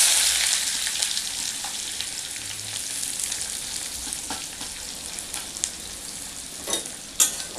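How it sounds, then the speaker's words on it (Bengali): Chopped onion frying in a pan with browned garlic, a continuous bright sizzle broken by occasional scrapes and clicks of stirring, close and steady with no voices. "এবার আমি দিয়ে দিচ্ছি কুচানো পেঁয়াজ"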